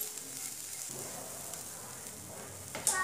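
Boiled sweet corn tossed in a pan with red chilli powder, chaat masala and roasted cumin, giving a soft sizzle and faint scraping stirs, closing with a short sharper clink.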